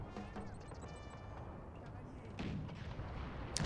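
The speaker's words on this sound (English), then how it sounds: "the old guard opened fire, which wasn't great because they shot troops ahead of them" Musket volley from Old Guard infantry in the Napoleon strategy game, heard as rough crackling gunfire within continuous battle noise, with a louder burst near the end.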